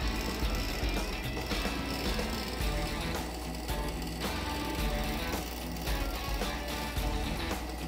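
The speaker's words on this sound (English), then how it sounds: "The skate sharpener profiles the runner and stops after the desired grinding cycles are performed." A Parduc P40 skate sharpener grinds and profiles an ice skate runner, giving a steady, loud mechanical whir and grinding rattle that runs without pause from start to finish.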